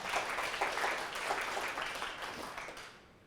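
Brief, fairly faint applause from a small audience at an art awards presentation, a short burst of clapping that fades out within a few seconds.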